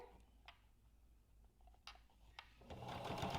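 A sewing machine stitching a fabric face mask, soft rapid mechanical running near the mic that swells louder toward the end, with a few light ticks and clicks between.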